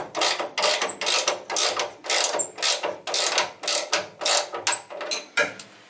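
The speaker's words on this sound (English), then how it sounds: "Just doing the bolts up now." Bolts on a cast iron planer being tightened with spanners, giving a loud, steady run of rapid metallic clicks and ratcheting strokes in regular bursts, close up with no talking.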